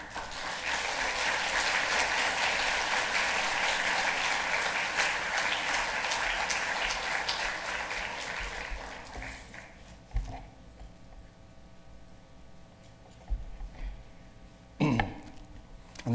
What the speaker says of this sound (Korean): 목사님 나오실 때 큰 박수로 한번 환영해 주시기 바랍니다